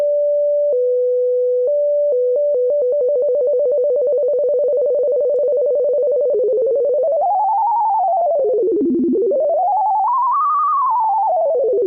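A synthesized electronic tone under triangle-wave modulation steps between pitches, then stutters rapidly before sliding smoothly up and down in wavering sweeps; loud and continuous, no voices.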